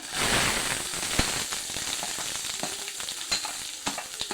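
Onion fries in oil with a soft, steady sizzle and scattered sharp pops and crackles, fairly quiet and close.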